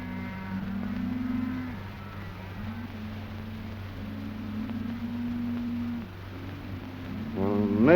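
A herd of cattle on a dusty trail moos in long, overlapping low calls, several animals lowing one after another over a steady background hum.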